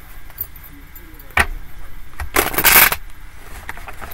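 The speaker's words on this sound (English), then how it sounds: "If I can get the damn cards to shuffle," A brisk riffle and shuffle of tarot cards, a sharp snap followed by a longer flurry of papery flicking, close by.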